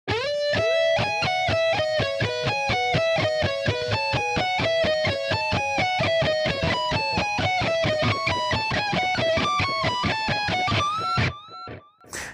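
A high harmony electric guitar solo from a song plays fast, evenly picked notes in a flowing pattern, bright and sustained, ending on a held note.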